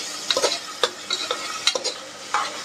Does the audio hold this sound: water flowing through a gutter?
no